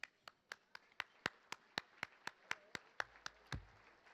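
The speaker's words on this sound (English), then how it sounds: "please stand and applaud the 9 inductees for this evening" Hand claps ring out at a 2019 Dallas ISD athletic hall of fame induction ceremony: sharp, evenly spaced claps at about four per second, faint and distant in a quiet hall, ending with a low thump.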